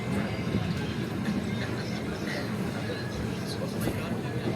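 A passenger train pulls into Bandel Junction station on the Azimganj Kaviguru Express: a steady, loud rumble of rolling rail cars blended with a low murmur of crowd chatter throughout.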